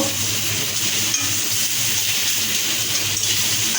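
Eggs fried earlier are tipped into a pan of Maggi noodles, bringing a steady close sizzle with light stirring scrapes and no talk.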